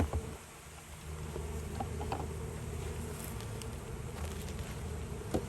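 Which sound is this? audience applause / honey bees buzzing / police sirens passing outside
honey bees buzzing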